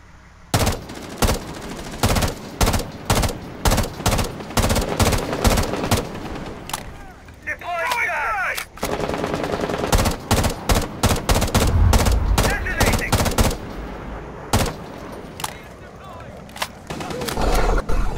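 Gunfire in Rainbow Six Siege on the Hereford Base map, shots fired through windows as rapid bursts of loud, sharp reports, with bursts and single shots separated by brief pauses over a noisy background.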